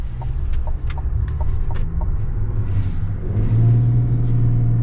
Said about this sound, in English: the diesel almost sounds different in this truck